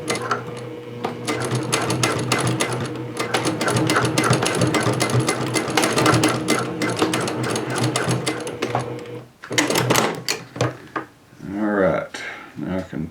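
A sewing machine stitching back and forth to tie off a seam on jeans, a loud rapid mechanical whirr that stops abruptly near the end, with a voice talking over it and afterward.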